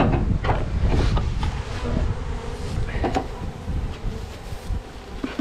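Honey bees being poured into a small plastic tub give off a dense, loud buzzing hum, close and continuous, with some wind noise and rustling.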